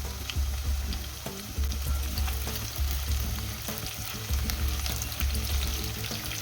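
Chopped onions frying in hot oil, cut long and turning reddish for a mint chicken curry, giving a loud, continuous sizzle with occasional stirring scrapes, close up and without any voice.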